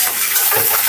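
Ginger-garlic paste hits fried onions in a hot pan of oil with bay leaf and dried chillies, a loud, close burst of hissing sizzle that lasts the whole moment without pause.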